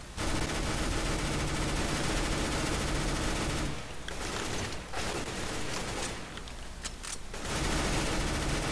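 Sustained rapid gunfire from a P90 submachine gun in a video game, dense and continuous, briefly thinning to scattered bursts midway before resuming full-on.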